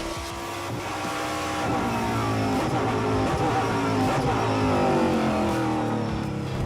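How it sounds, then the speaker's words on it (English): Stock race cars accelerating hard off a race start, a dense roar of several engines climbing in pitch and swelling louder as the field pulls away, with no voices over it. "he accelerates away from his teammate Justin Marks on the 99"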